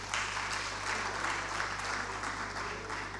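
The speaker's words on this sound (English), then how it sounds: "can you all clap for yourselves," Audience at an insurance brokers conference clapping for themselves during a technical session; fairly faint, even applause from a roomful of people heard at a distance over a steady electrical hum.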